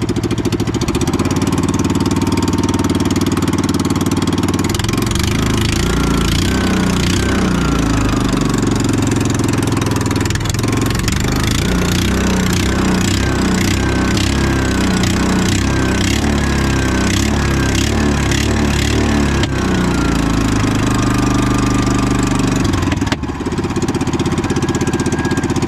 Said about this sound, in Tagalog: Karting.